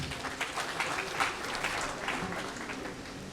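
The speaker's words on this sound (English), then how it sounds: "Another big round of applause for him." Sustained applause from a large crowd at an anniversary ceremony, a dense wash of clapping at steady volume throughout, heard from a little distance.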